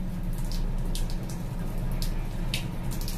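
Water runs from a shower connected to a gas water heater that will not ignite, a steady close spray patter with scattered splashes and drips, and no voices.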